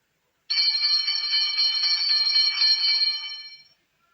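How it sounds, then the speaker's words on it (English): An electric school bell rings at 8:30 in the morning, one continuous bright metallic ring lasting about three seconds and then fading out, loud and close with no voices. "the school bell is ringing"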